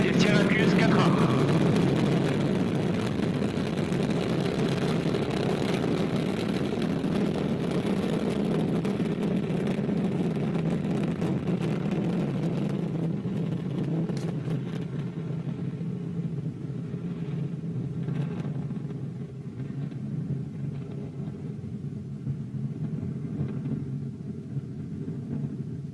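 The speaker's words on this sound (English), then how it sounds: "the Ariane 5 launcher has just successfully completed its liftoff" An Ariane 5 rocket lifting off with its Vulcain main engine and two solid boosters, a deep continuous distant roar that holds steady and slowly fades, with a commentator's voice faintly beneath it.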